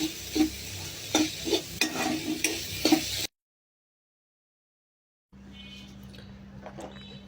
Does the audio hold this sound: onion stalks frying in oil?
yes